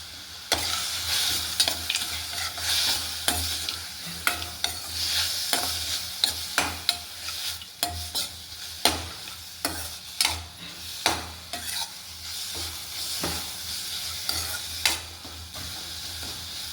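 Chopped dry fruits and beetroot roasting in a pan for beetroot kheer, with a constant close sizzle broken by repeated spatula scrapes and knocks against the pan.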